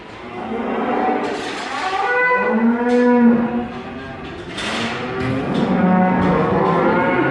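Limousin and Aberdeen Angus cross cattle on a farm moo loudly and nearby, with overlapping long, drawn-out calls from several animals that continue throughout.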